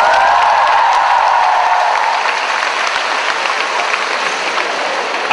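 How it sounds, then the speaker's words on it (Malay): Audience applause for a judge at the Prime Minister's Cup debate final, a broad, steady wash of clapping from a large hall crowd that fills the whole stretch loudly and evenly, with no voices over it. "Kita beri tepukan kepada Vanida Imran."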